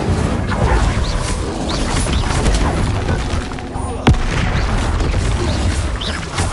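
Confringo blasting-spell explosions in Hogwarts Legacy set against busy combat noise, with a crisp, sharp burst just after four seconds and lower thuds and clatter around it.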